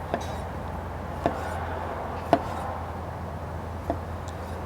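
A knife slices market heirloom tomatoes into thick pieces for a panzanella salad. Four sharp, spaced taps land on a cutting board over a faint, steady background hum, with no talking.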